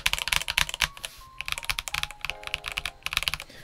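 Rapid, close-up typing on a Cidoo ABM084 tenkeyless three-mode mechanical keyboard with a steel plate, a dense run of crisp keystrokes with brief pauses and no voices.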